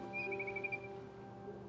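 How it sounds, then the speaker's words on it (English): Faint birds chirp outside a window in What Remains of Edith Finch: a few short, thin whistled calls over a quiet, hum-filled background. "Se oyen pájaros."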